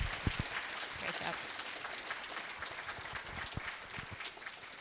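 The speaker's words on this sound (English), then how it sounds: "Round of applause." Audience applause at the close of a conference talk on securing communications, a steady spread of clapping with a few sharp claps and murmuring voices mixed in.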